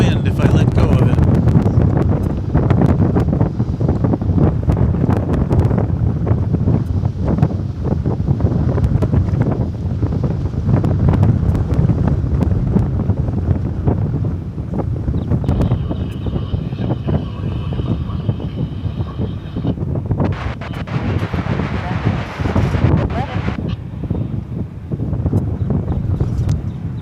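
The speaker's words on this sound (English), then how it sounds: "Our camera is getting blown around by the wind if I let go of it." Strong gusts batter the microphone during live plane spotting at DFW Airport, a continuous loud buffeting roar throughout, with a voice speaking intermittently beneath and distant aircraft noise.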